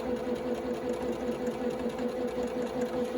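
A sewing machine stitches half square triangle quilt pieces in a steady, continuous run, its motor hum holding a level, close-up drone for the whole stretch with no talking.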